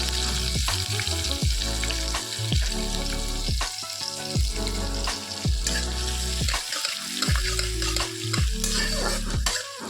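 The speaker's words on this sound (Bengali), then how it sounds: "এবার এটাকে ভেজে নিচ্ছি ভালো করে" Chopped green chilli and finely cut onion fry in a hot pan with a loud, continuous sizzle, broken by rhythmic scraping strokes of a stirring spoon every half second or so.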